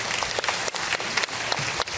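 Audience applause at a memorial performance event, a dense burst of clapping from many hands, steady and close for the whole moment.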